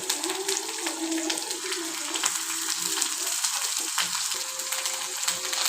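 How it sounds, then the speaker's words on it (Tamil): Green chilies and curry leaves sizzle steadily in hot oil as they are sautéed for Tamil-style egg rice, a continuous close frying hiss with occasional stirring scrapes and no talk. "நல்லா வதக்கிக்கலாம்."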